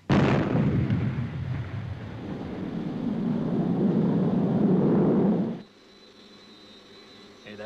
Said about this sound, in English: Hey, that bomb should be going up soon, shouldn't it, Joe?